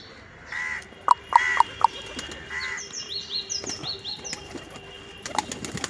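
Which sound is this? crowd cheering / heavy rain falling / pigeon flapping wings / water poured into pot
pigeon flapping wings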